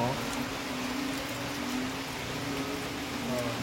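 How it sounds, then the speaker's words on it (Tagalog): Heavy rain pours in a steady, dense hiss that holds even and loud the whole time, with a low hum underneath. "grabe po ang lakas ng ulan, kaganina pa po yan"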